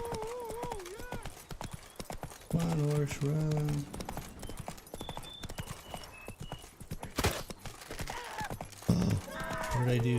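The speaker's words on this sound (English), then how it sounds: "Come on, horse, run." A horse gallops in The Witcher 3 video game, its hooves giving a steady rapid clip-clop throughout. Tonal game music and sound effects are mixed in, and a person speaks over parts of it.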